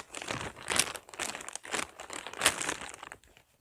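A thick plastic bag crinkles in close, repeated bursts of rustling, each swell rising and fading as the bag is squeezed and folded during a homemade sprinkler valve fix.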